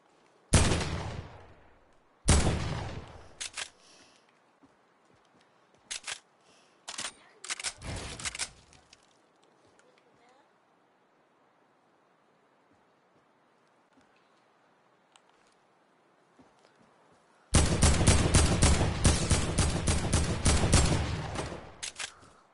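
Fortnite gunfire: a few isolated sharp shots early on, sparse quieter pops in between, then a loud rapid burst of automatic fire near the end, all crisp and close with no voices.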